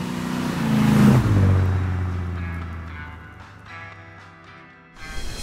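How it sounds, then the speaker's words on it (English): A 1969 Chevy Impala restomod cruiser drives by. Its engine swells into a loud rev that peaks, then drops in pitch and fades as it moves away, and a new burst of noise comes at the end. "Driving this 1969 Chevy Impala was outstanding."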